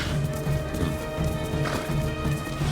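Horse hooves clop in a steady galloping rhythm under ambient game sound while riding in Ghost of Tsushima, a continuous close pattern of muffled thuds.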